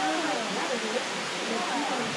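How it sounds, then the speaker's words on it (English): Waterfalls pour steadily into the Hamilton Pool grotto in Texas, a broad, constant hiss of falling water close by, with faint voices mixed in beneath the rush. "You've got that section, which is wide open with the waterfalls coming down and everything."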